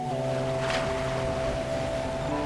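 Ocean waves from the game Love and Deepspace roll in as a steady, full wash that swells briefly, layered under sustained tonal notes.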